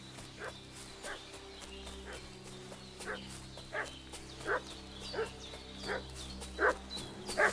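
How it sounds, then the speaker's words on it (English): In the video game Kingdom Come Deliverance II, a dog barks roughly ten times in a steady, insistent rhythm at moderate distance, over a faint ambient hum. "What's that dog making such a fuss about?"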